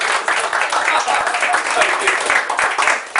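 Audience claps to cheer someone on at a youth talk event about single life, steady bursts of applause filling the few seconds, with a voice or two mixed in.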